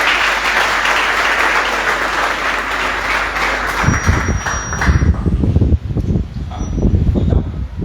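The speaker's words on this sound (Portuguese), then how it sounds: "Você pode aplaudir a vida dele?" Audience applause at a church conference, broad and steady clapping from a crowd that swells and grows more textured in the second half, with no talk over it.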